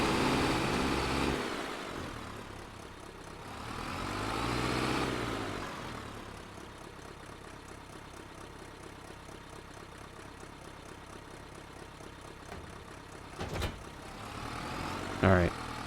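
Tractor engine in Farming Simulator 25 labors and strains at a steady low drone, swelling in two heavier surges early on, with a couple of brief clunks toward the end.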